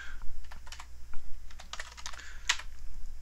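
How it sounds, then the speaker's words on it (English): Fingers typing code on a computer keyboard, a close, quick run of crisp key clicks in uneven bursts with brief pauses between them, heard alone with no talking. "we'll begin by typing just what's there"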